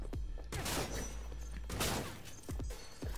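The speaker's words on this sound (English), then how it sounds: "A shotgun." Shotgun fire in the video game Cyberpunk 2077 booms out in several loud, close blasts, a pair of big reports followed by quicker sharp shots with crashing impacts.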